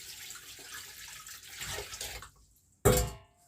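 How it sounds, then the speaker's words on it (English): A brief, loud splash of water pouring into a pot, following a stretch of quieter background noise and a short near-silence. "now I'll be adding water"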